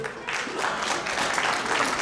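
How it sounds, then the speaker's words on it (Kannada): An audience at a sponsor introduction event applauds a gold sponsor, a short, even burst of crowd clapping with a voice faintly mixed in. "ಇವ್ರಿಗೂ ಕೂಡ ಒಂದು ದೊಡ್ಡ ಚಪ್ಪಾಳೆ ಬರಲಿ."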